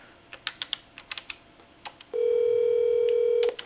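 A Cisco SPA525G IP phone: several quick key clicks as a number is pressed, then a steady loud dial tone holds for over a second when ringing out.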